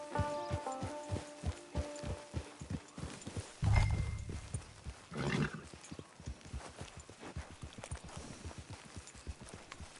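Steady clip-clop of horse hooves in Red Dead Redemption 2 online, an even walking rhythm throughout, briefly masked by a couple of louder low rumbles near the middle.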